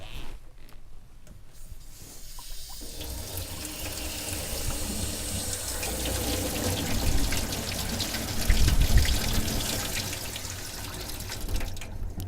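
Water rushes and hisses through a disassembled Febco 825Y backflow preventer as it is flushed out, a steady close-up gushing that swells toward the end with no talking.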